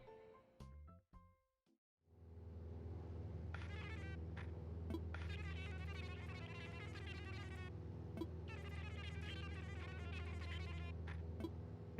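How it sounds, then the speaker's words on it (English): Cicadas in Animal Crossing: New Horizons make a steady electronic-sounding drone with pulsing chirrs layered on top, fairly faint and continuous after a brief burst of game sounds at the start. "Cicadas."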